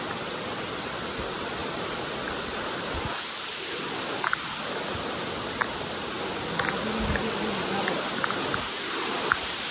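Constant dense hiss of heavy rain pouring down at night in the hills, loud and unbroken, with a few faint clicks and knocks scattered through it.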